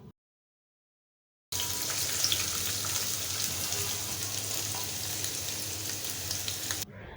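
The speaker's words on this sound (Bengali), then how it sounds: "এখন পেঁয়াজটা সুন্দর মতো সোনালী কালার করে ভেজে নিব।" Chopped onion with dried red chillies and a bay leaf sizzles in hot oil in a pan, a steady, bright hiss that starts suddenly after a brief silence and carries on evenly with no talk.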